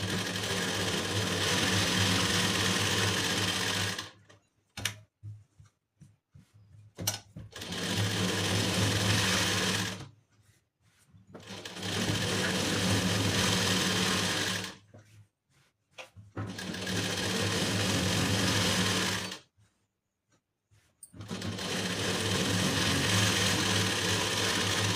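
Sewing machine stitching a lining piece around the edges of a blouse fabric, running in four long steady bursts separated by short pauses with faint handling clicks, close and loud.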